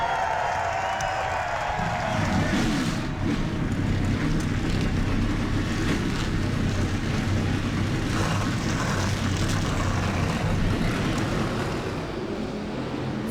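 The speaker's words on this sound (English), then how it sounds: "42 cars fire up, coming off the starting grid here in Brooklyn, Michigan for the GFS Marketplace 400." Massed engines of 42 simulated 2003 Winston Cup stock cars firing up and pulling off the starting grid at Michigan in NR2003, a dense, steady, loud roar with a low rumble sustained throughout.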